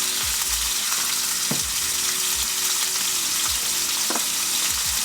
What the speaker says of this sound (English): I'm just gonna throw the garlic in there right now.